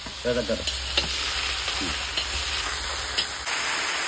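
Shrimp fry in a pan with a steady, close sizzle. Occasional clinks and scrapes from stirring break in now and then, and a brief voice sounds near the start.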